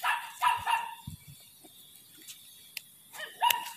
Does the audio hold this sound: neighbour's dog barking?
yes